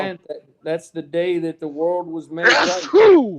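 A sneeze bursts out near the end, loud and close, right after a man's conversational speech; a sharp explosive exhale stands clearly above the talk.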